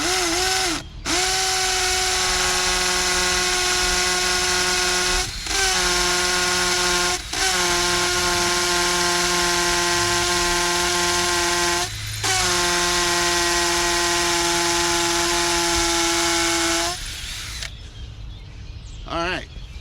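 A hammer drill whines steadily at high speed into brick, stopping briefly several times before winding down near the end.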